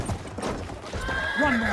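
A warhorse in the video game Battlefield 1 gallops with rapid clip-clop hoofbeats, then lets out a loud, rising whinny near the end, while a voice talks faintly underneath.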